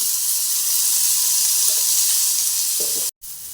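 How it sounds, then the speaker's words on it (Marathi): Tomato roasts in oil in a pan with a loud, steady hiss of sizzling close by, a few soft stirring touches near the end, then a brief cut before the frying resumes. "टोमॅटो पण चांगला जरा मऊ होईपर्यंत आपण भाजून घ्यायचं आहे"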